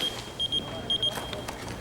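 A mobile phone rings with repeated short electronic beeps in bursts, mid-level over a faint background hum with a few clicks.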